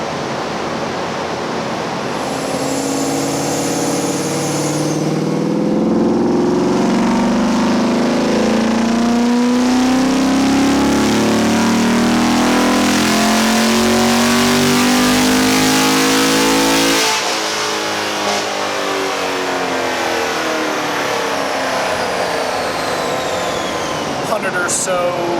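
A 6th Gen Camaro with a heads and cam upgrade, running pump gas on lowered tire pressure, launches hard. A loud, close engine note climbs steadily in pitch for several seconds, then cuts off abruptly, leaving a rushing roar.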